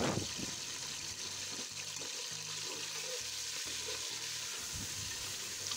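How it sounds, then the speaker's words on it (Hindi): Chicken pieces fry with garam masala in a pot for degi-style biryani, giving a soft, continuous hiss and sizzle under a low steady hum, fairly quiet and with no talking. "चिकन को फ्राई करेंगे"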